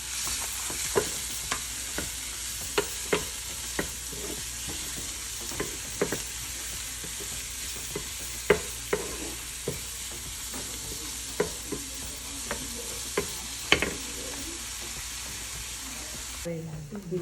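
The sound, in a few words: onion and green chillies frying in butter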